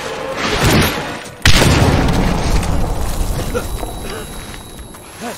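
A grenade goes off in the Medal of Honor Warfighter video game: a sudden loud, heavy boom that rolls on as a long rumbling tail, with shouted voices over the chaotic battle.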